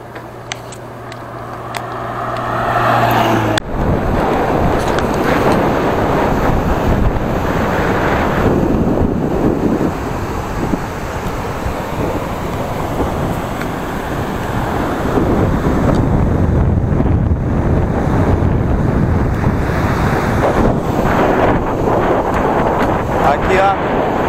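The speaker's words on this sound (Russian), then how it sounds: "Океан вообще бурный здесь." Heavy South China Sea surf on Vietnam's southern coast roars continuously while strong wind buffets the microphone, after a few seconds of quieter mechanical hum at the start.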